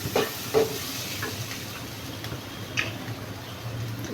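Masala frying in oil in a pan for an eggplant and chana dal curry, a steady close sizzle and hiss with a few brief clinks of a spoon early on.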